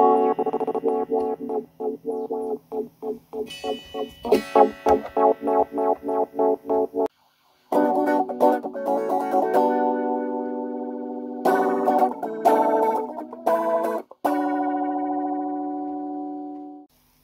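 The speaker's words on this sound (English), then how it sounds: "you can turn it to a square wave too. You can just get some cool alien sounds with this." A Stylophone Gen X-1 set to a square wave and played through guitar effects gives buzzy, distorted, alien-sounding synth tones in choppy, stuttering bursts, broken by short silences and a few longer sustained notes.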